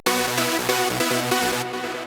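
A layered Sylenth1 synthesizer melody, two layers combined with post-processing, bright and dense, playing stepped notes with a processed, saturated tone, loud and steady with no voices.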